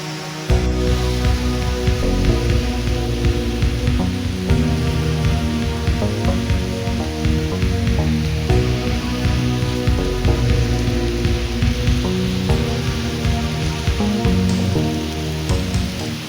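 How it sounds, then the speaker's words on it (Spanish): Constant tropical rain in Singapore, a dense loud steady hiss of drops hitting surfaces that runs unbroken from start to finish with no voices. "constante lluvia, algo de lo que fuimos testigos precisamente en esta caminata"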